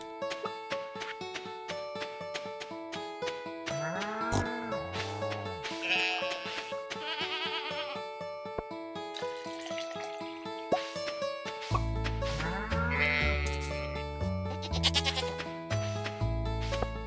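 Stardew Valley sheep bleating repeatedly in game over a steady bed of chiptune-style music and effects, the bleats close and clear with no voices.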